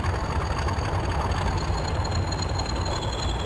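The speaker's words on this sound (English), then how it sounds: "Here comes another train." A Deltic diesel locomotive in Trainz Railroad Simulator 2019 rumbles with a deep, steady throb, loud and near, its heavy low engine note continuous and unbroken without any voices.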